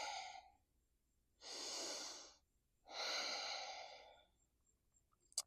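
Slow, deep breaths during a yoga forward fold: a short exhale, then two long airy breaths separated by quiet pauses, close and soft, with no talking.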